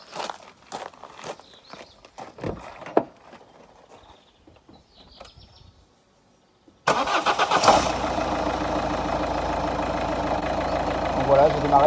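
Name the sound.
car engine starting with Topdon JS1200 jump starter booster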